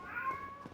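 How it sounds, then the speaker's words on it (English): A house cat meows in a short, plaintive wail, close and fairly clear, with a second shorter cry near the end and no talking. "he will just, like, meow at nothing"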